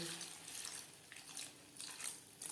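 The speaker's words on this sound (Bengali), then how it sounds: "এখানে আমি যে জারে করে নারকেল বেটেছিলাম সেটা ধুয়ে জল এড করি গ্রেভির সাথে" Rinse water from the jar used to grind coconut is poured into a vegetarian chichinga gravy, a soft, steady trickle and splash heard alone at close range for a couple of seconds.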